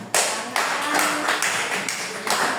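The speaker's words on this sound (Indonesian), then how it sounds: "Beri tepuk tangan dulu semua" A small classroom audience of teachers and students claps for a group presentation, starting abruptly and continuing as a brisk patter of hands with a few louder surges, nearby and unaccompanied by talk.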